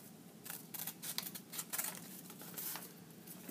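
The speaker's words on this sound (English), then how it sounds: "I'm trying not to cut out any lines. I'm trying to cut around them." Scissors snip through paper while cutting around drawn lines for a map project, giving a close, quiet run of irregular crisp cuts and rustles with no talk.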